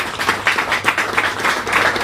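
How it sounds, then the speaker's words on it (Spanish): Steady applause from an audience at a political committee meeting, dense clapping filling the whole stretch at an even level with no voices over it. "yo les agradezco el aplauso"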